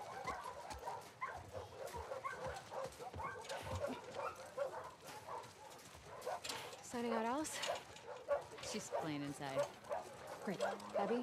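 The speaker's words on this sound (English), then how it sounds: "All the dogs in the house." Dogs bark, yip and whimper in a house in The Last of Us Part II, several dogs at close range in repeated bursts, with some pitched whines, under ongoing game sounds and talk.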